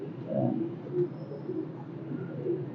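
Pigeons coo in a steady, low, murmuring run of repeated calls, fairly close and continuous with no talk over them, at a loft kept for pigeon fancying in Rawalpindi.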